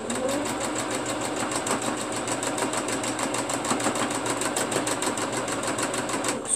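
A sewing machine stitches quilt blocks in a steady, fast mechanical rhythm, running continuously at a moderate level with no talking.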